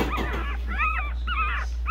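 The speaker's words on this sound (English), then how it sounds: "Oh no, we got a straight on puppy fight. What's going on? Who's fighting? Somebody's crying." Newborn Boston Terrier puppies, three days old, give high whimpering cries in two or three drawn-out bursts, close by, over a steady low hum, with no talk.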